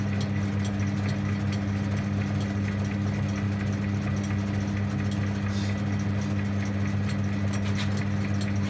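A plastic extrusion machine runs steadily in low gear while reversing, giving a constant low mechanical hum with a strong steady drone throughout and no talk.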